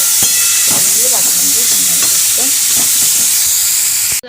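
Food fries loudly in a pan in a home kitchen: a dense, steady hiss with scattered clinks and scraping, cutting off abruptly at the end.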